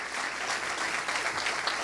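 Short, steady round of audience applause at an athletes' church service, dense clapping at moderate level with no talk.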